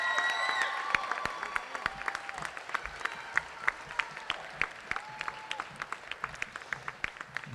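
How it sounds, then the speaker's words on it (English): Audience clapping at a graduation ceremony, a steady round of applause that holds for the whole stretch and slowly thins toward the end, with individual hand claps standing out near and clear. "Round of applause."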